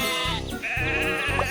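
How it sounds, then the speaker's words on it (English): Cartoon sheep in a toy train game bleat in a quick series of short, overlapping calls over a steady musical backing, loud and close. "Sheep have wandered onto the tracks."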